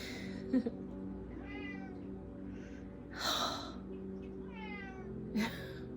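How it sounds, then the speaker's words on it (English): A kitten meows several times close by, drawn-out and rising-falling calls with short gaps between them, over a quiet steady background hum. "That's my other kitten."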